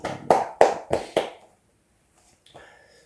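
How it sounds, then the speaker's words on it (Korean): A church congregation gives a short burst of clapping during a Sunday worship service, about five sharp claps in quick succession followed by quiet and a faint sound near the end. "하나님께 영광의 박수를 올려드리십시다."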